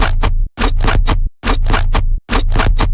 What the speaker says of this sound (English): So the main bass sounds like this.